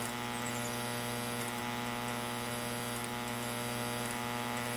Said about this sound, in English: Like now, I'm starting to weld.